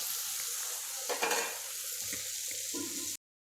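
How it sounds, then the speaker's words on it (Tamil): Onions sauté in a pan for a cabbage kootu, a continuous soft sizzle with brief stirring scrapes, close by and fairly quiet. "வெங்காயம் நல்லா வதங்கிருச்சு."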